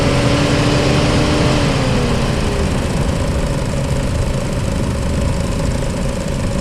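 A Chevy Cruze 1.4 turbo engine idles, a loud steady mechanical drone with a faint tonal whine that slowly settles, heard close with no talking.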